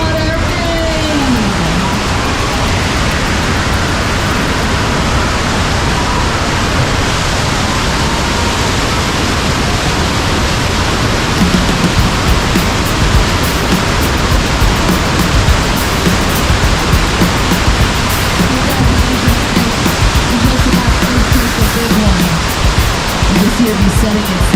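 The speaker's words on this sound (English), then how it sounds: "Oh, not the water rain!" Water rain effect on a theme park ride at Universal Studios, a steady loud rushing downpour that fills the whole scene, with a voice talking over it near the start and again later.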